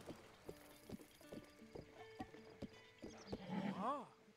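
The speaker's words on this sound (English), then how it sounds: "Not me riding a horse." Horse hooves clip-clop in a steady galloping rhythm in Zelda: Breath of the Wild, ending in a loud rising-and-falling whinny near the end, with faint game sounds underneath.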